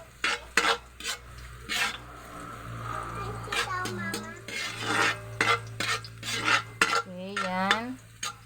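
Bihon rice noodles are stirred and tossed in plenty of oil in a pan with onions, giving scraping utensil strokes and soft sizzling under frequent talking.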